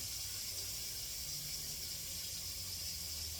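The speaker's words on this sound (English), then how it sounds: "Y'all hear that sizzling?" Food sizzles in a hot pan, a steady close hiss that never breaks, with a faint low rumble underneath and no speech.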